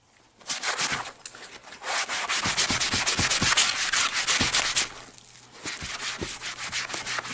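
An eraser rubs back and forth over goalie pads in quick, steady scrubbing strokes, close and fairly loud, with a short pause before the scrubbing resumes.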